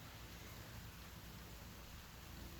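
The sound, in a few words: rain falling outside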